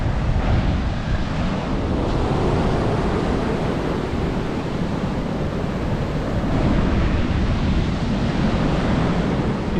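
Steady roar of surf breaking on Rye Beach, Mornington Peninsula, mixed with constant wind buffeting the microphone, loud and unbroken throughout with no voices.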